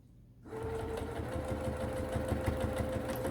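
A sewing machine stitches across a small expandable fabric pouch, a steady, fast mechanical chatter with a faint whine running continuously after a brief quiet start, close and moderately loud, no talking.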